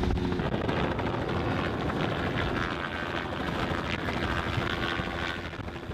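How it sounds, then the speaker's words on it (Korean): A helicopter flies through thick sea fog over the Arctic, its rotor thumping in a loud, continuous drone that fades slightly toward the end, with no voices. "그때 안개 속에서 헬기가 모습을 드러냅니다."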